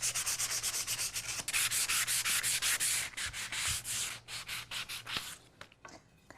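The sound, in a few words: hand sanding edges of cut wood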